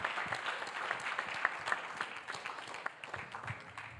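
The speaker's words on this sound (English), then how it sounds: "So can we give those students a huge round of applause?" An audience claps for a group of students, steady mid-distance applause with scattered sharper claps standing out, moderately quiet and continuous throughout.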